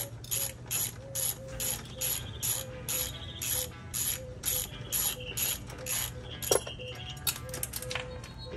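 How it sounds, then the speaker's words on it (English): A ratchet wrench works the shock bolt of a Honda CRF300L motorcycle, giving a close, rapid run of rhythmic clicking bursts in repeated strokes with small metallic taps between them. "I did have to throw the wrench on the other side."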